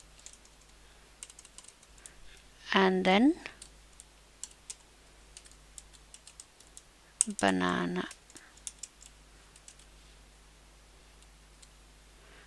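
Computer keyboard typing while entering Python dictionary keys, with quiet scattered keystrokes under two short bursts of speech.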